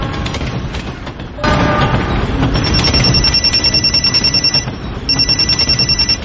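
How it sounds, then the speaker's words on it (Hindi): A mobile phone rings on board a moving train, its repeated electronic ring pulses sounding loud and close over the heavy rumble of the carriage, pausing briefly and then starting again. "थोड़ी देर में मेरा फोन बजा।"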